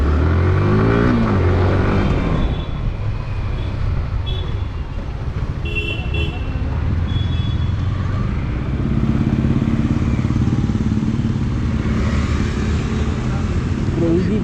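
A Yamaha R15 V4 motorcycle engine revs loudly and close up, its raspy note rising and falling through several throttle blips over a steady idle.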